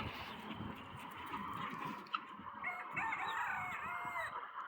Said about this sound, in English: That's a guinea fowl in a bush.